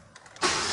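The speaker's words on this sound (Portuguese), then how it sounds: "Então vamos deixar aqui aquecendo pra gente ver como que vai se comportar o motor." Chevrolet Montana engine after valve camshaft, rocker arm and hydraulic lifter work: a few faint cranking pulses, then the engine catches into a loud, steady rush as it starts and warms up.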